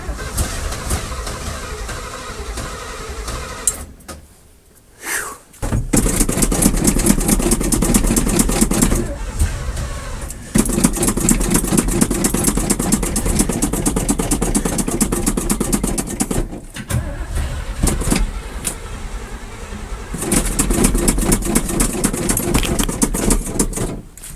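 An abandoned 1979 Chevrolet's engine turns over and runs roughly up close, with a short stall around five seconds and a brief dropout later, its loud, uneven rumble continuing between the gaps.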